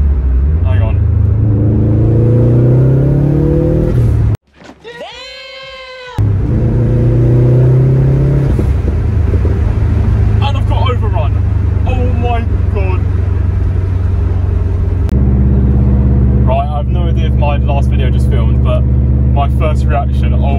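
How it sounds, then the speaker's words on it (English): The stage 1 remapped engine of a Subaru WRX STi revs loud and close, with a brief sharp burst of turbo flutter and blow-off between pulls and a steady rumbling drone afterward. "It does a flutter and a blow off, and I can hear the intake."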